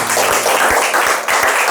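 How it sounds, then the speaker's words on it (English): A church congregation applauds, with a dense wash of clapping and a few sharper individual claps standing out, loud and close. "Let's give a round of applause to Jesus."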